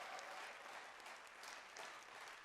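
Audience applause at the HOPEx 2024 gala evening honoring Beacon of Hope supporters and sponsors, a steady, faint wash of many hands clapping at a distance for the whole stretch.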